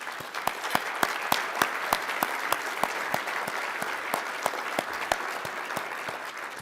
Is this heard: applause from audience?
yes